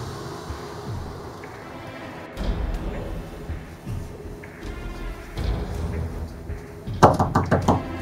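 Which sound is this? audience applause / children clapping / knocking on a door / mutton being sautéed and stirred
knocking on a door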